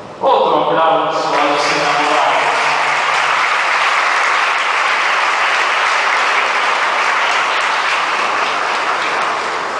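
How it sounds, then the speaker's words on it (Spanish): Sustained applause from a church congregation during a Sunday Lent Mass, a loud, dense wash of clapping that fills nearly the whole stretch after a brief musical or vocal opening. "Otro aplauso"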